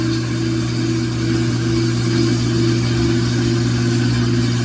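Out-of-balance washing machine spinning at about 400 to 600 RPM, giving a steady, loud mechanical hum with a strong low drone and constant whirring throughout, no voices.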